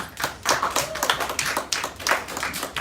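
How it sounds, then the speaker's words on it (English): A small audience at a public speaking class claps in a round of applause, individual hand claps distinct and uneven, fairly close and moderately loud, with no talking over it. "Please give all of yourselves a big round of applause"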